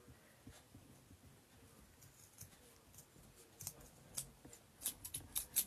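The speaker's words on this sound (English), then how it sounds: "Because these are pretty crappy scissors." Scissors snipping excess fabric while making an earbud pouch, a series of faint, soft crisp cuts that quicken and grow more distinct toward the end, with no talk.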